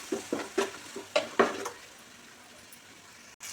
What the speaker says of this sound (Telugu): ఇది కూడా కొంచెం పచ్చి వాసన పోయేలా ఫ్రై చేసుకోవాలి